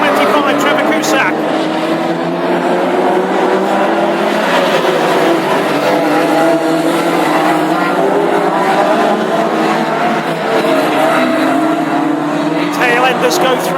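Classic hot rod race cars roar past on a Lochgelly oval track during a Scottish Open heat, their engines blending into a loud, sustained multi-car drone with a commentator speaking underneath.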